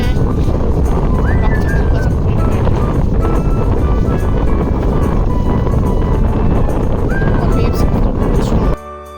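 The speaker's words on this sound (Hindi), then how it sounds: "बहुत हवा चल रही है, ये पेड़ सबसे आप समझ सकते हैं कितना हवा चल रहा है" Strong wind at an island resort in the Maldives, a loud continuous roar of gusts buffeting the microphone and thrashing through trees, steady for about nine seconds before dropping off abruptly at the end.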